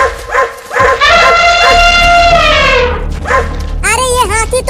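Several dogs bark and yip in a comic sketch, loud and close, in repeated bursts and drawn-out whining cries mixed with voices.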